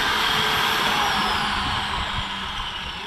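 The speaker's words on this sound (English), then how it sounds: "So when you turn this grinder on and you push this button, let me show you what happens. Continuously running." Grinder with a locking switch running continuously, a loud steady high-pitched whine and motor drone that holds unchanged throughout.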